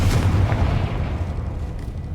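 A Confringo fire spell blasts off in Hogwarts Legacy, a loud, booming burst near the start that rolls into a sustained low rumble lasting about two seconds, with no talk over it.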